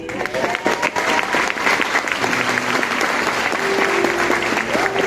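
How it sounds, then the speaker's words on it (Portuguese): Audience applause for a woman's husband at a testimonial gathering, steady dense clapping filling the room throughout, with faint voices and cheers mixed underneath. "Uma salva de palmas aqui pro meu marido."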